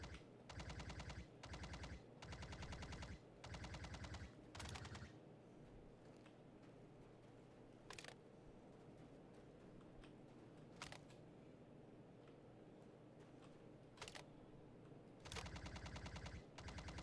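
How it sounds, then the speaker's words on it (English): Video game weapons fire comes in rapid bursts of automatic shots, several volleys at first and then scattered single cracks over a low rumbling background, with a final burst at the end. "weapons fire again."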